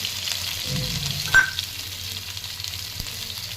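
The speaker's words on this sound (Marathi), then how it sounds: "जिरी मोहरी टाकून घेते जिरी अद्रक लसून टाकलेलं आहे" Cumin, mustard seeds, ginger and garlic frying in hot oil, a soft close sizzle with a sharp clink of a utensil partway through and a light tap later.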